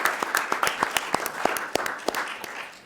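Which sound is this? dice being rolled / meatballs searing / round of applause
round of applause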